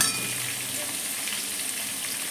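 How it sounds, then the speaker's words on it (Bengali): Tomatoes fry with beans and capsicum in a pan for a vegetable stew, giving a steady, even sizzle heard up close and unbroken, with no talking. "এর মধ্যে আমি টমেটোগুলোও দিয়ে দিলাম,"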